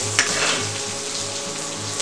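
Whole spices, cinnamon, cloves and cardamom, fry in hot oil for a mutton bone marrow dish, giving a steady close sizzle and crackle with no talk.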